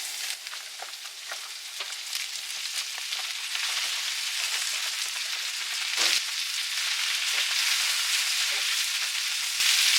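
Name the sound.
spinach added to a hot pan, frying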